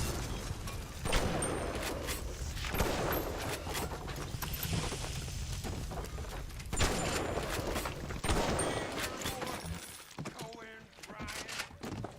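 A shotgun fires in BioShock Remastered. Several punchy, shattering blasts come a second or two apart amid clattering mechanical game noise, which thins out near the end.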